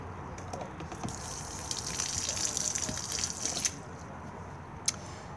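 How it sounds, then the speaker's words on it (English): Fresh water gushing and trickling from the drain point of an Elddis Majestic 135 caravan's fresh water tank, a steady splashing flow that swells in the middle and eases off, with a sharp drip near the end. "To drain off the fresh water tank for winterization, etc., it's just done at this point here."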